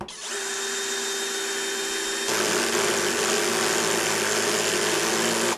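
A small 20V DEKO cordless drill driver at speed 1 runs steadily into fir wood, its motor whine close and loud, shifting to a heavier, rougher tone partway through as the screw bites and the clutch engages.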